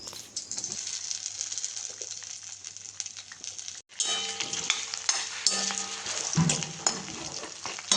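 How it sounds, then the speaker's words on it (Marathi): Potatoes frying in hot oil for sabudana khichdi, a steady close sizzle with occasional scraping stirs of a utensil in the pan, briefly cutting out midway before resuming. "तेलामध्ये आपण पहिल्यांदा बटाटा फ्राय करून घ्या,"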